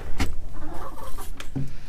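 Chickens in a barn give a few short clucks and squawks, one sharp call early and another near the end, over a low background rustle.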